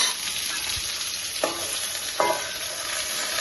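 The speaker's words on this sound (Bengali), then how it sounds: "ঝিঙাগুলো দিয়ে একটু নাড়াচাড়া করবো, নাড়াচাড়া করে একটু ঢাকা দিয়ে দিব" Ridge gourd stirred and frying in a pan, a soft steady sizzle running throughout with two brief scrapes of the spatula against the pan, heard alone without talk.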